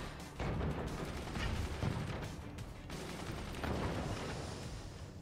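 Dense, continuous machine-gun fire in the game Forts rattles along in rapid bursts with mechanical clanking, loud and steady throughout, with no voices.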